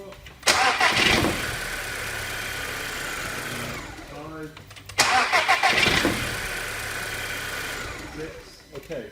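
An Audi TFSI engine with a running fault cranks over on its starter without firing, in two long whirring bursts of several seconds each, loud and close, with a short pause between them.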